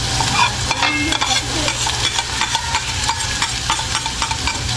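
Onions and ginger sizzle steadily in a hot pan while a utensil stirs and scrapes them, producing crackling frying hiss with repeated clinking strokes close by.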